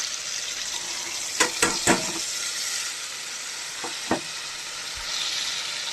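Mustard, chili, cumin and turmeric paste frying in a wok, a steady bright sizzle with a few sharp utensil clinks and scrapes scattered through it, close and unvoiced.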